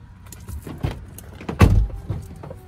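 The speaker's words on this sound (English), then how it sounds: "back seat folds down just like that." Rear seat of a 2015 Kia Sportage LX folding down inside the car, a few soft mechanical clicks and shuffles followed by one louder thump as the seatback drops, close and fairly quiet.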